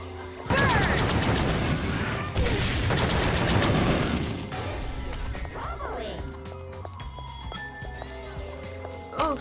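Gunfire in the video game Ultra Despair Girls: a loud, dense burst of rapid shots lasts a few seconds, then fades into softer game effects and scattered tones, with a player talking over it.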